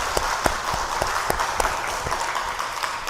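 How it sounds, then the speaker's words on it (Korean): A lecture audience claps in encouragement at the end of a church course session, a moderately sized round of applause with some distinct sharp individual claps standing out, continuing steadily for a few seconds. "서로를 위해서 한번 격려의 박수 한번 하겠습니다"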